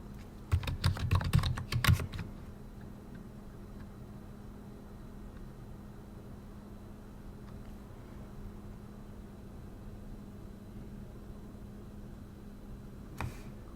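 A short burst of rapid keystrokes on a computer keyboard while terminal commands are entered on Ubuntu, followed by a long quiet stretch of faint room hum and one last isolated key tap near the end.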